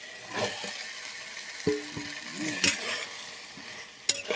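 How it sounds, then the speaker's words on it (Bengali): Potatoes with spices and chili powder fry in a pan, giving a soft steady sizzle broken by a few sharp clinks and scrapes of stirring; no one speaks. "মশলাটাকে ভালো করে কষিয়ে নিয়েছি, আলুটাও দিয়ে দিয়েছি। আলুটা দিয়েও কিছুক্ষণ কষাবো।"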